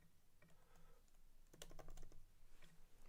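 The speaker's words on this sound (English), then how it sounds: "I'm just typing in this." Computer keyboard typing during a fantasy football live stream, quiet irregular clicks at first, then a denser, faster burst of keystrokes in the second half, close and alone without speech.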